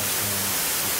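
White noise added as an effect in the Reaper audio editor, a dense even hiss filling the short stretch, loud and steady, with a faint low hum briefly underneath.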